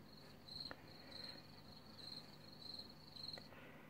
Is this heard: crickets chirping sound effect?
yes